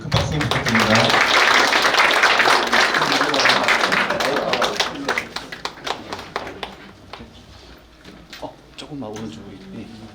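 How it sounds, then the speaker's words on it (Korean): Staff applause after a special lecture at a regional medical center in Korea, loud dense clapping filling the room for about five seconds, then thinning into scattered claps and fading out. "네, 큰 박수 부탁드립니다."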